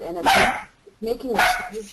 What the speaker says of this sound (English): Is that a dog? Yep.